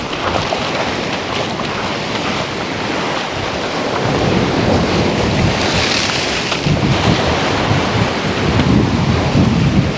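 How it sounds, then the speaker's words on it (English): Large ocean waves on a Thai shore with no wind, a loud continuous rushing surf that swells and crashes close by, with no voices. "Amazing, so large waves, but no wind."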